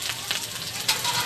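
Nigella seeds and finely chopped garlic sizzle in hot oil with a brief, dense crackle and scattered small pops, heard up close.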